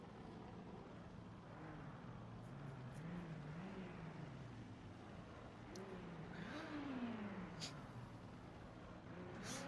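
A BMW drift car revs its engine at a drift competition in Hungary, the rising and falling engine tone sweeping up and down continuously at a distance, steady and moderately loud with a broad rumble.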